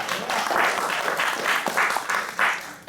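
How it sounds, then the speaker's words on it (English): Theater audience at an improvised comedy show clapping hands, a steady wash of applause rising and falling in pulses across the clip. "Just clap your hands if you are."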